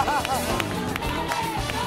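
An audience at a show claps along in a loud, fairly regular rhythm, with voices and music-like tones mixed into the applause.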